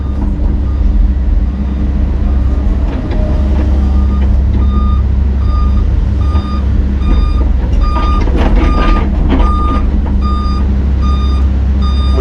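A rented truck sounds its reversing alarm: a steady series of evenly spaced electronic beeps over a loud, constant low engine rumble.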